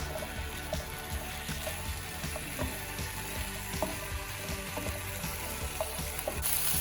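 Tomatillos, serrano chilies and garlic char in a hot pan, giving a steady, quiet sizzle and crackle with scattered small pops throughout.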